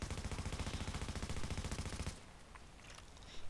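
LW M4 rifle in The Division fires a steady automatic burst of rapid, evenly spaced shots for about two seconds, loud and close, then cuts off, leaving a quieter tail of game ambience and faint rattles.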